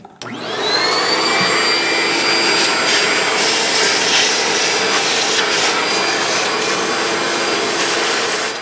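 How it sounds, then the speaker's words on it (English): A vacuum cleaner switches on and runs steadily, loud and close, sucking debris from the intake ports of a 2005-2010 Dodge Dakota engine during an intake manifold replacement, with a constant whine and rushing air and no talk. "Use a vacuum cleaner and remove as much of the debris as possible before removing the rags from each one of the"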